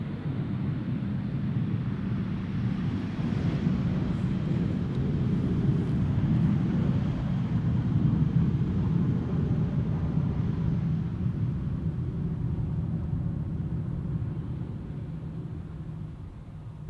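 An Airbus A319 airliner arriving from London Luton at Schiphol Airport gives a steady, loud, broad roar that holds for the whole stretch and eases slightly at the end, with no voices.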